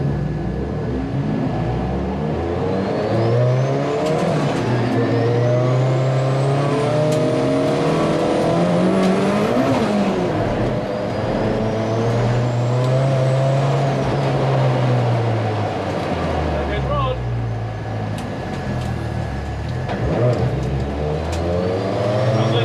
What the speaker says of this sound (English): the Classic and Historic Thunder Saloons are on their formation lap.